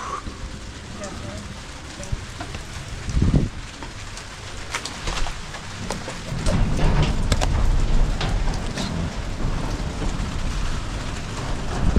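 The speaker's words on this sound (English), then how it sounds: "it's kind of gloomy and raining out today." Steady rain patters and hisses outdoors, a dense constant wash of drops that swells a little louder partway through.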